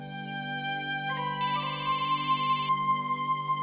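An electronic mobile phone ringtone plays a repeating melodic pattern over a steady low hum, fairly close and continuous.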